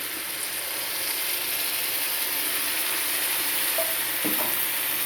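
Tamarind extract hits hot oil with fried fenugreek and spices, giving a steady broad sizzle with a few clinks of a stirring spoon near the end.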